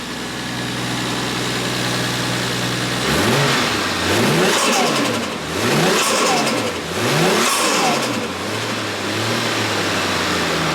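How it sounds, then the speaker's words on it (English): A Toyota JZX100 fitted with a turbo and J-pipe idles steadily, then revs up and down about four times in a loud, rising-and-falling rhythm before settling back to idle, heard close with no talking. "Car sounds phenomenal."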